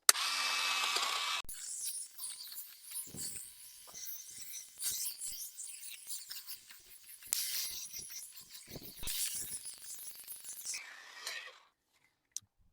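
A lightweight SNAPFRESH cordless hedge trimmer buzzes loudly through a hedge in bursts, its motor dropping out in short gaps between passes before a final cut-off and a single click.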